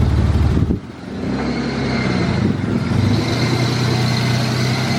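A warmed-up BMW E36 idles with a steady, low exhaust rumble close by, after a brief louder disturbance at the start.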